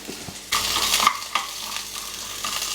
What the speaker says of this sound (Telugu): పచ్చిమిరకాయలు వేగేలోపు